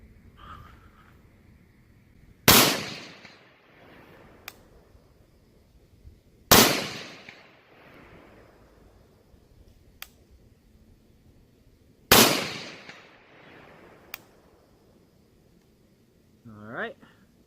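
Three sharp rifle shots, evenly spaced about four to six seconds apart, each firing Mark 262 cartridges at a 200-yard target on an outdoor range, loud and close with a quick trailing echo and quiet gaps between.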